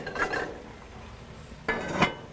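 A metal lid clinks twice onto a GBS Dutch oven sitting on a BBQ, two short separate metallic knocks with a quiet pause between them.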